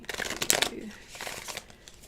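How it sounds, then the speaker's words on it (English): A deck of tarot cards is shuffled up close in a quiet room, two quick riffling bursts of papery flutter separated by a short pause. "Okay, 2 more shuffles and we'll get started."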